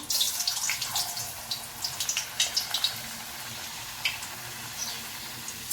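Sabudana and potato vadas drop into hot frying oil, producing a soft, continuous crackling sizzle with small bursts of spattering, fairly quiet and close, with no talking.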